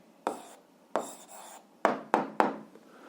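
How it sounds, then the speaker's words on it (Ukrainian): Pen strokes writing out the answer to an algebra exercise, five or six short scratchy bursts in an irregular rhythm, close and soft against a quiet room. "Ну що ж, записуємо відповідь, пишемо відповідь."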